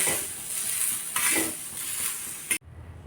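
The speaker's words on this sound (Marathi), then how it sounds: "आता मोठ्या गॅसवर आता कांदा भाजून घेत आहे" Onion roasting over a high gas flame, with a steady loud sizzle and crackle mixed with occasional stirring scrapes and clinks, close up, cutting off abruptly near the end.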